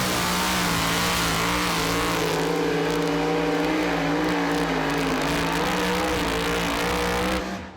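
A modified two-wheel-drive pulling truck engine roars loud and sustained at a Pro Pulling League pull, its steady high revving holding nearly the whole stretch before cutting off at the end.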